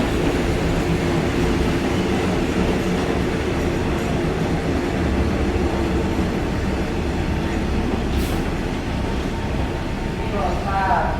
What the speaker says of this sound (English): So there's actually a train coming in.